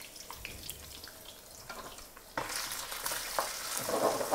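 Prawns are stir-fried and stirred in a pan for a noodle dish with prawns and octopus. A soft sizzle with stirring scrapes grows into louder, steadier frying about halfway through.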